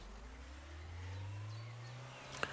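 A car drives along in Trader Life Simulator 2, its engine humming at a steady low pitch with a slowly rising tone, fairly quiet, ending with a brief sharp click.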